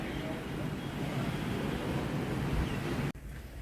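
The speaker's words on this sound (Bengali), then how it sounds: "হাওয়া দিচ্ছে জোরে," Strong wind blowing outdoors makes a steady, broad roaring rush that holds evenly for about three seconds, then cuts off abruptly near the end.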